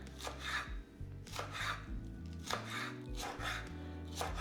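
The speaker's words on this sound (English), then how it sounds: "I'm gonna do some nice long angled slices here" A knife slices vegetables thinly at a long angle on a cutting board, giving a quick series of close, crisp knife strokes in an irregular rhythm.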